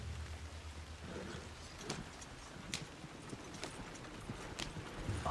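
Horse hooves in Red Dead Redemption 2 clip-clop at a moderate, uneven pace over a soft, rain-like background hiss, with no talk over them.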